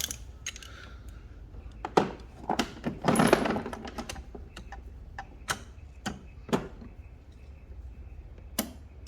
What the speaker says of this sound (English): when you're using a torque wrench, now you want to keep torquing it until you hear it click.